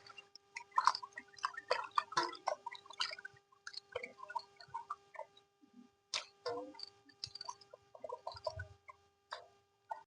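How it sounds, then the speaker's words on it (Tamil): Chicken liver being washed by hand in water in a bowl gives close, irregular splashes, drips and wet clicks in quick bursts, with no talking. "ஈரல் மாங்காவை நல்லா தண்ணி ஊற்றி நல்லா கழுவி எடுத்துக்கலாம்"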